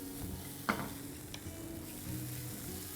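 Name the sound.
mixing carrots and corn cooking in a pan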